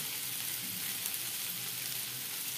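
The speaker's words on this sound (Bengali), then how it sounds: "বেগুনটা কিন্তু খুব সুন্দর ভাজা হয়ে গেছে, আলুটা বেগুনটা।" Brinjal and potato pieces fry in oil in a pan, giving a steady, even sizzle that stays close and constant throughout with no talking.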